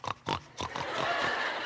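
A woman imitates a pig with her voice, giving a few short snorting oinks in a rhythmic burst, then a longer drawn-out grunt, close and clear.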